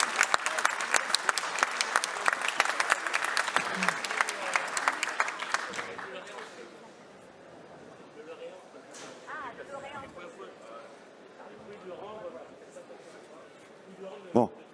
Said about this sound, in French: on l'a déjà applaudi tout à l'heure. Donc on le fera encore une fois